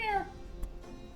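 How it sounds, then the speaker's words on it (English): A pet cat meows in a short, close, falling cry, followed by a faint second sound, with quiet room noise underneath. "this cat is so sweet"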